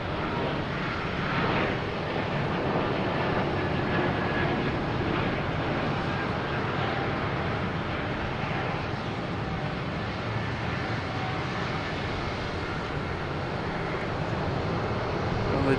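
Jet airliners at Boston Logan Airport make a continuous, loud roar with wind buffeting the microphone, a steady broadband rumble with no distinct breaks.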